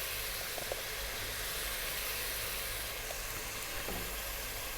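Beef sizzling in butter in a pan for a stew, a steady close hiss and crackle that runs unbroken throughout.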